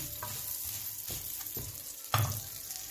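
Vermicelli browns in ghee over low heat, a soft, faint sizzle with a few clinks and scrapes of stirring, close by and with no voices.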